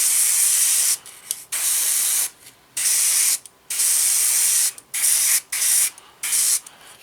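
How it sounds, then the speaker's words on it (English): An aerosol spray passes over a 1/48 Eduard F6F-3 Hellcat model aircraft kit in short, loud bursts of hiss. The pauses between bursts are uneven, and no one speaks. "What we're going to do is a quick spray over the top."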